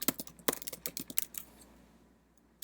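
Fingers tap quickly on a computer keyboard, giving a close run of light clicks for about a second and a half. The typing then stops and only quiet room tone remains.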